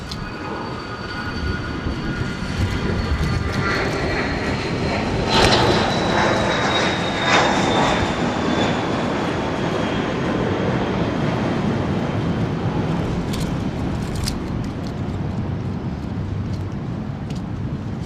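A fixed-wing airplane takes off from the runway at Dallas Love Field in rainy weather, its engine a loud sustained roar with a whining tone that swells and slowly passes.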